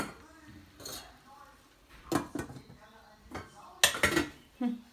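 Bulgur roasting in a pan for pilaf, with a spoon scraping and clinking against the metal in a few separate bursts, moderately close, while someone speaks in between.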